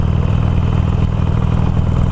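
A Harley-Davidson Iron 883 motorcycle engine runs close and loud, a steady throbbing rumble with a slight lift as the throttle is touched.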